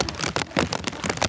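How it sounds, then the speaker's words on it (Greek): Heavy rain falling outdoors in Thessaloniki during a Greek football fan event, a dense broadband wash of drops with irregular louder bursts, steady and close for a brief moment with no talk. "βρέχει τώρα,"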